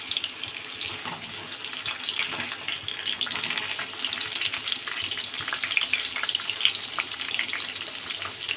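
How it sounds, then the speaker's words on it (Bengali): Potatoes fry in a pan over low heat, a faint, steady crackling sizzle with scattered small pops throughout, no talking. "আর এইটা হচ্ছে এই যে আলুটা ভেজে নিচ্ছি।"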